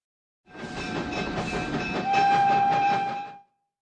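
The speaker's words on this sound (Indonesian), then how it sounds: "Kereta, naik kereta api cute cute cute." A train sound effect rolls in for about three seconds, a steady rumble with clickety-clack pulses and a sustained whistle tone that rises in the second half before the sound cuts off cleanly.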